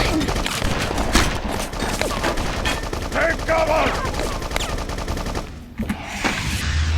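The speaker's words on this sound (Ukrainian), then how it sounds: "Та харе по мені тут стріляти." Dense bursts of gunfire in the video game BloodRayne, rapid automatic shots layered with explosions and effects, continuous and loud throughout.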